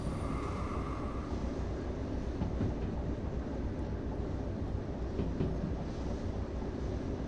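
Train cars rolling along track in the Derail Valley simulator, a steady, dense rumble of wheels and rail noise that runs unbroken from start to end.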